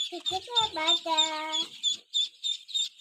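Ducks on a village duck farm call in repeated harmonic quacks, close and clear, as people talk nearby.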